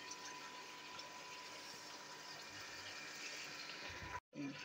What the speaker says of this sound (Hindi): फिर मैं इसमें थोड़ा सा पानी ऐड करूँगी